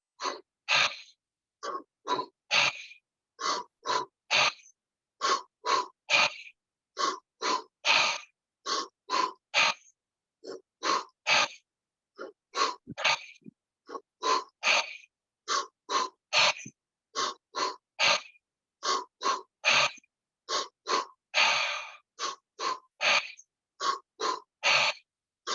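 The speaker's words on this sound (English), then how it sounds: "So we're going to start the breath, the shamanic breathing, belly chest, like that." Shamanic breathing exercise with paired belly and chest breaths, drawn in rapid, rhythmic, forceful bursts that repeat steadily and closely over and over, with short pauses between breaths and no talking.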